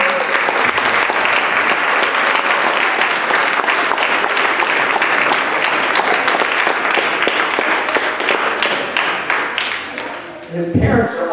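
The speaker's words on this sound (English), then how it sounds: "Let's give him a clap" Sustained, loud applause from an awards ceremony audience for the tournament's event organizer, dense clapping holding steady for about ten seconds before breaking off abruptly near the end.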